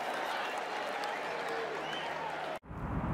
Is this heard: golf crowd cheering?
yes